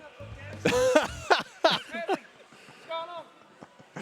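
During commentary at a King of Fighters XV Top 8 fighting game tournament, a few sharp coughs sound close to the microphone among voices and chuckles.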